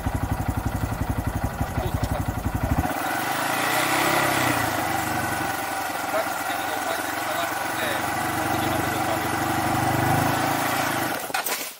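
A manual-transmission motorcycle engine runs with a rough, pulsing idle that shifts into a smoother, steadier drone as the clutch is worked during half-clutch practice, sounding close and continuous throughout.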